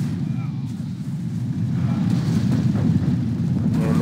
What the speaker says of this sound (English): There goes the particle cannon.